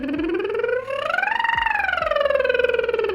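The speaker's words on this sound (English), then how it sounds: "So let's just do some pitch glides up and down on the lip trill." A lip trill gliding smoothly up and then back down in pitch as a vocal range exercise, one continuous buzzing voiced tone rising to a peak and falling, close and steady with no talking.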